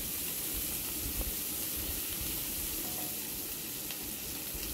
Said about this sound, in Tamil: வெங்காயம், அந்த கருவேப்பிலை கொத்து எல்லாத்தையும் அதில் போட்டுட்டு அதையும் ஃப்ரை பண்ணுறோம்